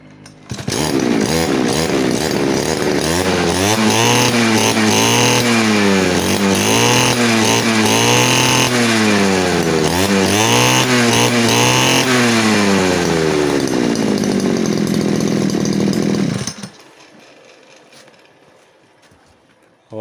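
A small two-stroke brush cutter engine with a newly reattached throttle needle starts and revs loudly in repeated rising-and-falling surges for about sixteen seconds, then cuts off into near silence.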